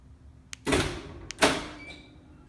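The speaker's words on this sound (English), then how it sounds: "Kicks that door right open." An electric door popper on a shaved-handle 1967 VW Beetle fires, giving a sharp click and a thud as the door pops open, then a second click and thump, close up in a quiet garage.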